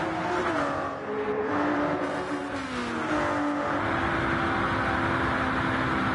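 Race cars roaring around a track in Gran Turismo, a steady loud engine drone with shifting pitch as the cars accelerate and pass, no talk over it.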